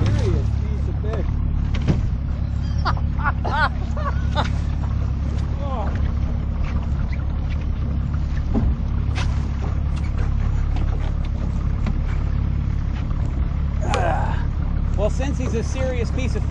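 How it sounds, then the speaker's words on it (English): A fishing boat's outboard motor runs steadily with a loud low drone on the Gulf Coast of Florida, while wind buffets the microphone and people talk over the engine noise. "I'm going to turn the outboard off because that's loud and obnoxious."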